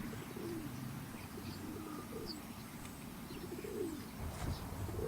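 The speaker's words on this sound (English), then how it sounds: "I can hear bird noises chirping in the background" Soft cooing and scattered chirps from distant birds over a steady outdoor rumble, with no talking.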